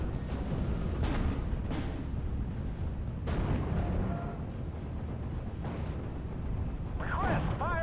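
Artillery fire in the WWII strategy game Steel Division Normandy: dense, continuous booming and rumbling blasts with several sharper bursts, loud throughout, alongside game chatter.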